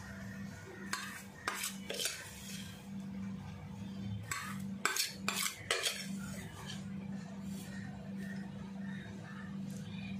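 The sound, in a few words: spoon scooping jaggery into mango pickle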